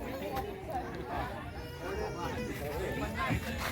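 A crowd of people waits to board boats at Nalumanikattu riverside tourist spot in Chavakkad, Thrissur, a steady low hubbub of overlapping chatter heard from a distance, fairly faint throughout.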